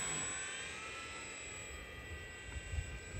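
Small RC airplane motor droning steadily in flight on an Arrows Bigfoot, running slightly rough, at moderate distance with a continuous engine hum and faint fluctuations, no talk.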